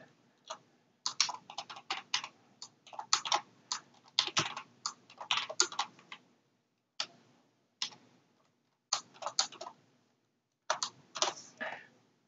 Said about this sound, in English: I'm just typing this in because it's quicker for me to type.